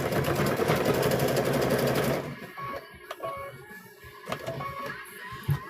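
A sewing machine stitching binding onto a quilt wall hanging runs loudly in a fast steady whir for about two seconds, then stops, leaving quiet handling sounds and small clicks.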